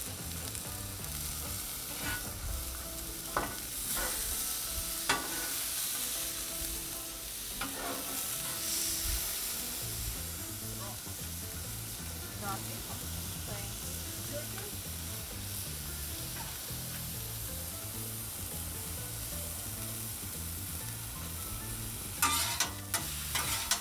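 Churrasco cooks on a 22-inch Blackstone griddle over medium-high heat, with a constant bright sizzle broken by the scrape and clack of a spatula stirring the food.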